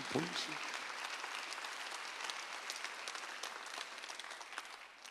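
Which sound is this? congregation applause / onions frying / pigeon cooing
congregation applause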